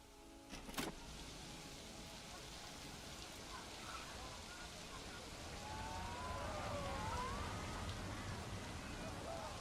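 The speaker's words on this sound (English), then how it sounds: "It was snowing, but now it's raining." Steady rain falling on the park in the video game Planet Coaster 2, a soft continuous hiss that swells slightly louder in the second half, with faint game tones and a brief knock near the start.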